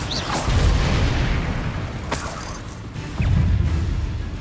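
Bombarda blast spell in the game Hogwarts Legacy, heavy booming explosions at the start and again near the end, with a sharp crack in between, loud and close.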